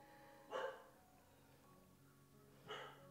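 A mini Goldendoodle barks twice in the distance, the two faint barks a couple of seconds apart in an otherwise quiet room.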